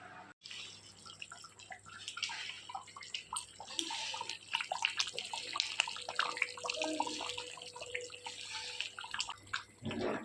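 Water is poured into a pot of braised chicken being cooked, a soft splashing, gurgling flow of moderate level that runs for several seconds without talk.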